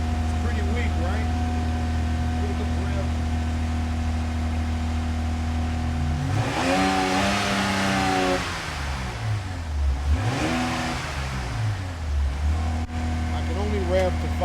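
A 2025 RAM Laramie V6 revs in neutral while parked: a steady idle gives way to two sharp climbs in engine pitch, each falling back, then settles to idle again, with a voice speaking nearby.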